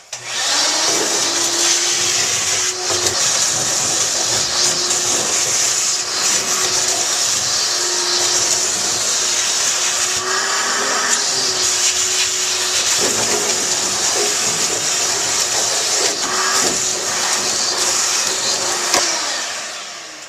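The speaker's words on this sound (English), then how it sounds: "we'll vacuum it out and we'll see what we got" A vacuum cleaner runs continuously at close range inside the trunk of a 1952 Chevy Deluxe with a steady high whine, its pitch shifting slightly as the nozzle moves and catches debris.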